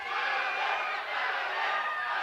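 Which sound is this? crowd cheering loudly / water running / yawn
crowd cheering loudly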